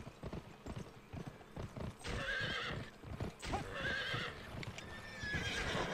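Rapid hoofbeats clip-clop from a horse galloping in the PS2 game Gun, with repeated whinnies rising over the rhythmic drumming; the sound is fairly quiet overall.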